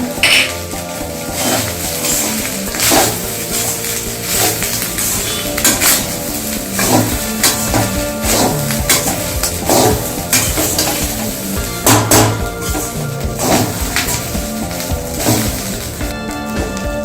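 Vegetable fried rice is stir-fried in a pan with pepper added, giving a steady, close sizzle under constant scraping and clinking from a metal utensil against the pan. It carries on without pause throughout.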